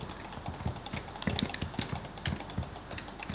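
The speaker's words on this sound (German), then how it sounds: "mein Klicken ist laut, ne?" Rapid, fairly loud mouse and keyboard clicking during a Minecraft session, sharp taps coming in an uneven rhythm, close up, with no voices.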